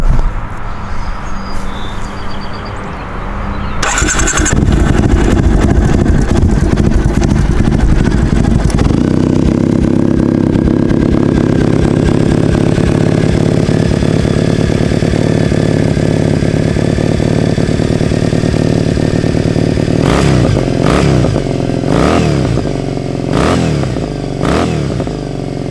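A 2014 Triumph Thruxton 900 motorcycle engine runs steadily and loudly close by after a brief start, holding a throbbing idle with a few sharp revs near the end.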